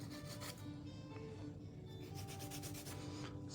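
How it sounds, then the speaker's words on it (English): A nail file rasps under a fingernail while gel nails are shaped, a steady close-up rubbing and scraping that stays soft and continuous with no talking. "so I'm filing underneath the nail so we can kind of perfect our side wall view"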